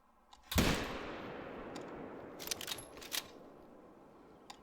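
A hunting rifle fires once in Hunter Call of the Wild, a sharp loud crack that rolls off into a long fading echo across the open terrain, followed by a few faint clicks and small noises of the rifle being handled.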